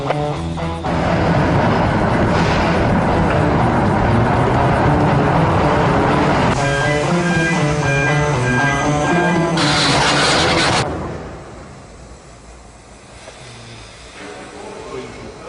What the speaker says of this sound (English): Rocket train be launching the mountain immediately.